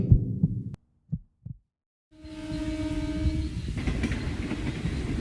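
After a few soft thumps and a brief silence, a local train rumbles through stations at night without stopping, with a rising, steady roar and a sustained tonal whine.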